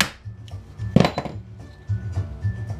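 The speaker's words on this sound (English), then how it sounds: "Let's crack this sucker open." Plastic casing of a Clarisonic Mia 2 exfoliator being pried open by hand, giving a cluster of sharp clicks and cracks around one second, then softer knocks and handling rattles, close and fairly quiet.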